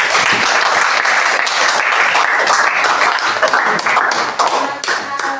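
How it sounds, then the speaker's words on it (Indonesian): Loud applause from a crowd, dense clapping sustained throughout and slightly thinning toward the end. "tepuk tangan untuk kita semua"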